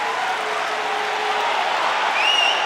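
Crowd at a college wrestling match between Oklahoma State and Iowa cheering and clapping in a steady, dense roar, with whistle-like tones rising near the end.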